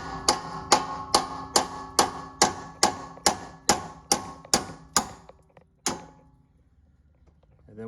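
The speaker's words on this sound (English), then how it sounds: "you do have to hit them with a hammer" A hammer taps a bolt out of a 2013 Town & Country or Caravan minivan strut: about eleven sharp, evenly spaced metallic strikes close by, then a pause and one final hit before the sound falls quiet.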